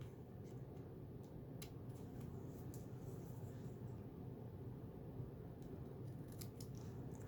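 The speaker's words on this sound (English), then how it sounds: "Or what you do is just grab your scissors" Faint, quick snips of scissors cutting paper, in a short irregular series over a low background hum.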